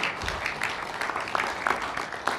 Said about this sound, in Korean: 박수 가능합니다.